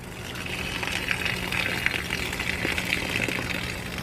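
Water pours steadily from a container of soaking eggplant seeds, a continuous gushing splash at moderate loudness with no talking.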